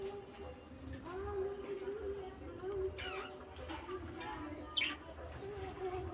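Pet birds kept in a room chirp and whistle in short, faint calls, with a brief sharper call near the end over a steady low hum and soft background noise.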